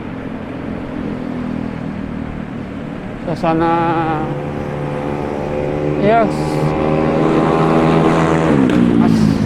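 Cars and motorbikes pass along a quiet street early in the morning, engines rising and fading as vehicles go by, with someone speaking over the traffic throughout.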